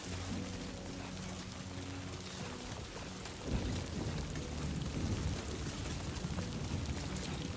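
Rain in the video game Death Stranding 2, a steady hiss of heavy rainfall with low thunder-like rumbling that swells about halfway through, no one talking.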